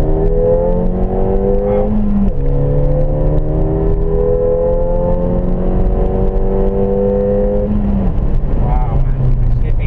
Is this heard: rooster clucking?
no